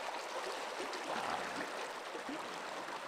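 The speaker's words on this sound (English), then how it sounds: "Now it's a raging river." A high, swollen creek running fast past a rocky point where side water rejoins the main stream, giving a steady, broadband rushing wash with no pauses and no voices.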